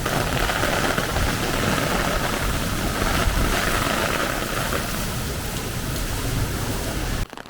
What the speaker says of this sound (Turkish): korkunç bir yağmur var. Sağanak, sağanak